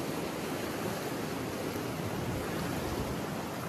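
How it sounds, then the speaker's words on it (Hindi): Sea waves wash and break near a hotel at Port Blair, a steady unbroken roar of surf and foam, fairly quiet and with no voices. "लहरों की आवाज़।"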